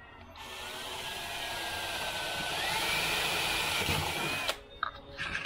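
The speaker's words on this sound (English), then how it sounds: "The only reason we're pre-drilling it is jigsaws don't go through flat surfaces." A power drill runs steadily for several seconds, pre-drilling a starter hole in a flat panel for a jigsaw cut while installing a speaker tray in a 1974 Dodge Charger. The whine rises slightly in pitch mid-run, then stops, followed by a few faint clicks.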